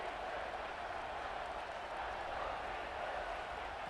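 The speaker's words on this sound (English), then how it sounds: "this big crowd doing everything possible to inspire this defense down here near the goal line" Dense, steady roar of a big stadium crowd cheering to fire up the defense near the goal line in a football video game, loud and unbroken throughout.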